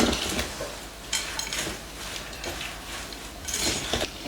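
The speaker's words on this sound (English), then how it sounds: "So we'll just go ahead and stir this all together." Salad ingredients stirred together in a bowl at a kitchen counter, with scattered soft scrapes and light clinks of a utensil against the bowl, close and moderately loud.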